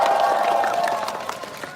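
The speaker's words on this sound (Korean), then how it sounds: "박수 한번 부탁드립니다." Seoul National University students and graduates at a campus rally, a short burst of crowd applause mixed with cheering and a humming murmur of voices, loud at first and then easing off.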